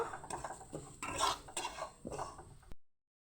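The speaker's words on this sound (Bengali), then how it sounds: "মুগ ডালটা কিছুক্ষণ ভেজে নেব" Moong dal being fried in a kadai, heard as several short bursts of scraping and rattling from the stirred lentils against the metal, close and fairly quiet, before cutting to silence.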